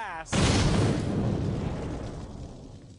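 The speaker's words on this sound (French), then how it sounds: "Il crée cette énorme explosion." A sudden heavy explosion bursts after a brief moment, its deep rumble lingering and slowly fading over the next few seconds.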